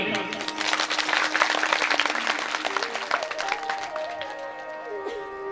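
An audience at a Bhagavat katha religious gathering claps together in a dense burst that fades out, while a tonal voice sings or speaks over the tail end.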